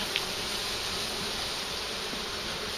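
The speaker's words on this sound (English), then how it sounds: "they'll just run down inside and fly around, make some buzzing noises" Smoked honey bees give off a steady, dense buzzing drone in a hive, continuous and even throughout without pauses.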